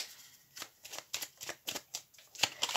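Tarot cards are shuffled and drawn by hand in a quick run of crisp, close riffling snaps, about a dozen sharp bursts in uneven rhythm over near silence.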